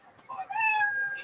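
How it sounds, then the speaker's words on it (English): A short cat meow sound effect plays as a signal that stage time is up, one rising, whiny meow lasting about a second over a faint background. "you know that 60 seconds of stage time is up when you hear the sound of a kitty"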